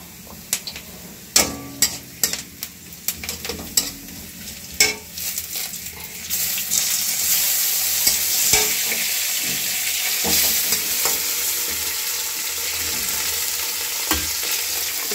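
Chopped tomato drops into a pan of reddened onions with a few sharp knocks, then a loud, steady sizzle of frying takes over, broken by scraping stirs and an occasional spoon clack, with no voices.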